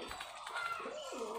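Giribaz high-flyer pigeons cooing close by, a short soft burst of low throaty coos heard on its own with no talking.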